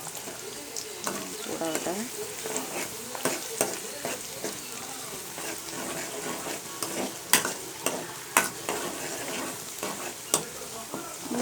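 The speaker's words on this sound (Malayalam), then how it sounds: "കറിവേപ്പിലയും കുറച്ച് പച്ചമുളകും ഞാൻ അതിലോട്ട് ഇടുവാണ്." Curry leaves and green chillies crackle and spit in hot oil, with frequent sharp pops and stirring scrapes over a steady sizzle; a voice speaks briefly near the start.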